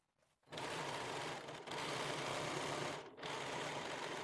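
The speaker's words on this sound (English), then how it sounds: "Then we're sewing it together, and then we overlock the seam" A sewing machine overlocks the seam of a formal vintage dress, its motor whirring in a steady, close, continuous run after a brief quiet start, with two short dips in speed along the way.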